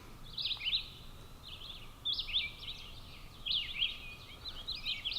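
Birds chirp in short, bright bursts at a distance outdoors in the aftermath of a tornado, the calls coming in clusters over a quiet, low rumble.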